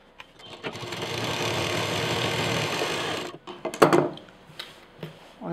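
A sewing machine stitches the seams of a fabric potli bag in a close, steady whir lasting about three seconds, then stops, followed by a few clicks and handling noises.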